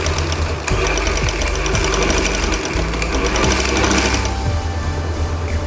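A sewing machine stitching lace onto fabric runs loud and close in steady mechanical bursts, with a brief stop near the start before it resumes its rapid rhythmic chatter.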